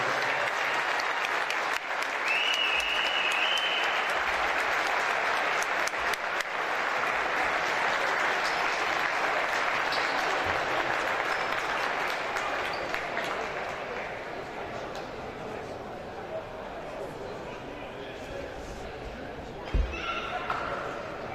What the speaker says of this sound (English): please join us in thanking Kelly Dunman with a resounding ovation for his 30 years of service